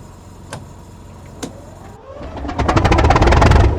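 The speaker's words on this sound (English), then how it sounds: "Go ahead and start the locomotive." In Train Sim World 2, a locomotive on a West Cornwall line starts up: two clicks, then a motor whirs up and the engine settles into a loud, rhythmic throbbing idle close by.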